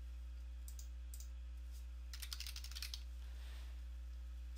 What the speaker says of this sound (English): And we're going to type in Notepad.